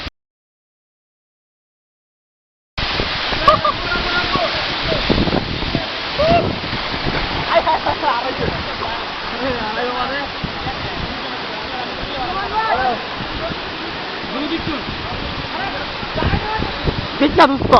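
Hum Hum waterfall in Sreemangal, Sylhet, a steady broadband rush of falling water that begins after a short silence and continues throughout, with people talking over it.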